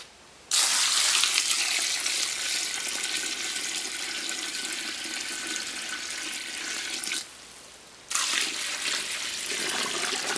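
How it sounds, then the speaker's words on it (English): A pot of beeswax cappings fills with running water from a tap, a loud steady gush that starts abruptly, pauses briefly, then resumes until the end. "we need to fill it up with water up to that level"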